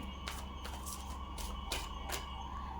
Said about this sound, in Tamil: ஆம்புலன்ஸ் சவுண்ட் வருது